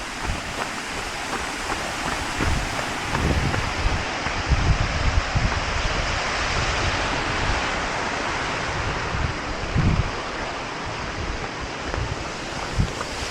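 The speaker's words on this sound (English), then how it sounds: "I'll leave this down for the waterfall though." A waterfall on a mountain trail during the UTMB ultra race near Chamonix roars as a steady, dense rush of water, close and constant, with wind noise buffeting the microphone.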